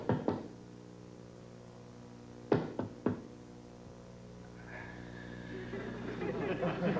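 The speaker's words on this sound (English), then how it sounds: "Somebody knocked." Several sharp knocks on a door in a sitcom scene set in a navy setting: a brief pair of raps, a pause, then three more raps, followed by a low murmur of voices.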